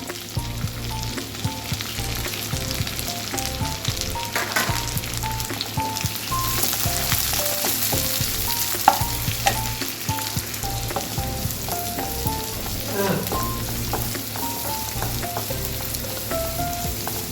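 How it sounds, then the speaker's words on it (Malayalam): Onions for a Hyderabadi pulao sauté in hot oil in a pan with a constant, crackling fry sizzle. Occasional stirring clinks sound close and clear, with no voices. "ഇതൊന്ന് വഴണ്ട് കിട്ടിയാൽ മതി, ബ്രൗൺ ഒന്നും ആവണ്ട."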